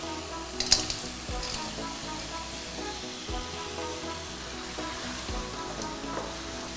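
Cleaned crab pieces dropped into a pan for crab malaikari, giving a continuous moderate sizzle with a few brief clatters near the start and a short spoken word over it.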